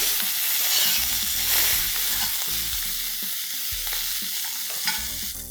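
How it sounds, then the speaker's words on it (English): A cup of fenugreek leaves sautéing in hot oil for biryani sizzles in a constant hiss, broken by repeated rhythmic scrapes and taps of a spoon stirring the pan, close and unaccompanied. "Let's add 1 cup of fenugreek leaves. Saute this for a minute."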